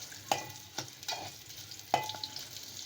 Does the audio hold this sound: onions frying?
yes